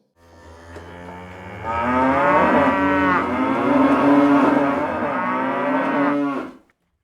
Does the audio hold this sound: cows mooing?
yes